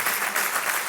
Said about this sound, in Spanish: que vaya un aplauso también a través de su viuda para José Luis